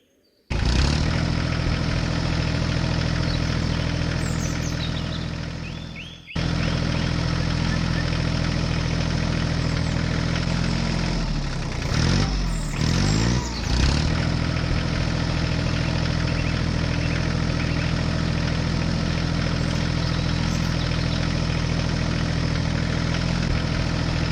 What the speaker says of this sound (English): The tractor didn't have enough power to go uphill with the load and needed help.